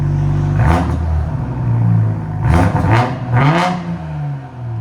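BMW X7 2019 with a 3.0L twin-turbo inline-six and straight pipes revs three times with its exhaust valve closed, each loud throttle blip rising sharply then falling back to a steady idle burble, close up.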